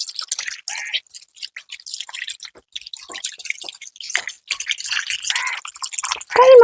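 Water poured and splashed by hand over pet dog Daymon during a bath, irregular close wet splashes and drips in quick bursts, ending with a brief high squeak.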